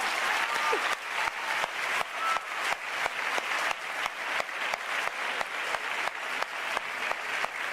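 A school event audience greets a Murcia school's teacher and pupils with strong applause, many hands clapping in a steady, full wash with a faintly rhythmic pulse, and some voices faintly underneath.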